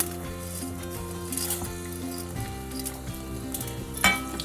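Chana dal sizzles steadily in hot oil in a pan on a stove, a continuous crackling fry under prominent background music, with a brief clink near the end.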